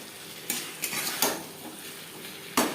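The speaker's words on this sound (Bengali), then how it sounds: "মশলার সাথে ফুলকপি বেশ ভালো করে মিক্স করে দেবো।" Cauliflower and spices are stirred in a pan for an aloo-phulkopi fish curry, with a few sharp utensil scrapes over a steady low sizzle, close by and moderately loud.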